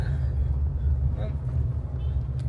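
Road traffic in Pune, a steady low rumble of passing cars and vehicles heard continuously in the background while people talk over it.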